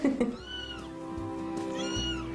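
A young kitten meows twice, each a clear rising-and-falling cry, close and fairly loud, with a short pause between the calls.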